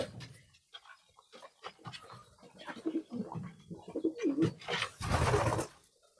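Pigeons coo softly in low, throaty bursts close by, mixed with rustling and fluttering noises.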